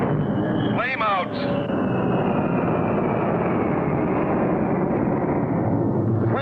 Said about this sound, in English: Flame out. The most frightening sound for any jet pilot.